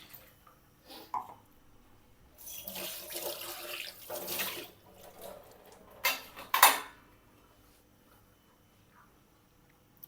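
Water runs and splashes into a mixer jar in bursts, with clinks of kitchenware between pours; no one speaks.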